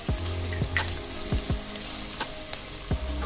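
Sliced onion and long-cut carrots fry in oil in a pan with a steady sizzle, broken by a few sharp clinks and scrapes of stirring.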